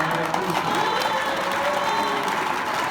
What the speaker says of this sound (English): Please give her a round of applause as she comes